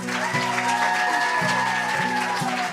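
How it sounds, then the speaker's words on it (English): Audience applause for a band member at a live country music show, a steady wash of clapping beneath sustained instrumental tones. "How about another hand for Mr. Kent Coffey?"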